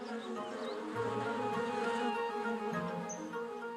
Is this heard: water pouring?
no